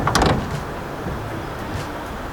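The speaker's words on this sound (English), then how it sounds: "It has sliding doors." The sliding rear door of a 2014 Toyota Sienta opens with a brief latch clack and a loud initial thud, followed by a quieter rolling slide along its track.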